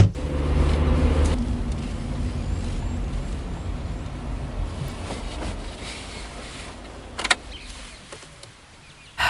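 A truck pulls up with a loud low engine rumble that slowly eases off, followed by a sharp hiss of air brakes and a final short burst of noise.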